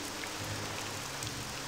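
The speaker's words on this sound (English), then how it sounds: "It is raining" Rain in the Morrowind game world, a dense, even hiss of falling water with faint drops flicking through, steady and alone with no voices.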